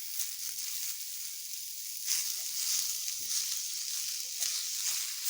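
One medium tomato roasting with coconut in a pan on a low gas flame, giving a soft, steady, close sizzle with faint scraping and no talk.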